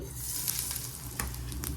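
Mustard seeds sizzling in hot oil in a pan while Tamil-style fried brinjal is made: a steady close crackling hiss with small pops throughout, no voices.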